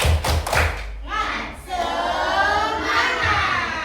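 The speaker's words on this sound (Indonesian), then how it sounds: "Tepuk semangat." Fourth-grade pupils in a classroom perform a rhythmic spirit clap, a quick run of loud claps and thumps, then a burst of children's voices shouting together.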